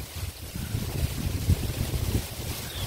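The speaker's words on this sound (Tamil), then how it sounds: "காற்று பயங்கரமாக வீசுது" Strong wind blows steadily outdoors, a loud, continuous low roar with gusty surges and no voices.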